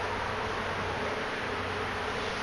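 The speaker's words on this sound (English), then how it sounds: "This is the hive. It's an old birdhouse. It's now chock full of bees." Honey bees buzz inside a hive built in an old birdhouse in a yard, a dense, continuous drone heard close up and alone.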